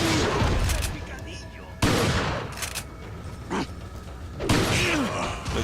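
Gunfire in the Resident Evil 4 video game comes as several sharp, heavy shots spaced a second or two apart, with bursts of noisy reverberation between them. Someone speaks French quietly in the background.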